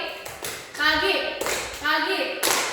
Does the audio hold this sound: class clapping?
yes